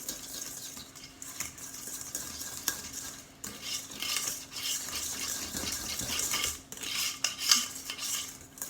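Almond powder being mixed into frothy financier batter in a bowl, heard as continuous close scraping and swishing of a utensil against the bowl with a few sharper clinks, fairly loud and uneven in rhythm, with no voices.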